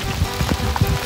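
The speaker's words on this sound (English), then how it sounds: "Guess what? It's raining." Rain patters steadily on a sailboat at night, a dense, close spatter of drops with no voices.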